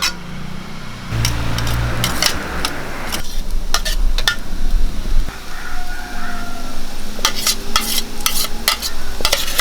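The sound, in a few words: stir-frying crushed coconut with green banana in pan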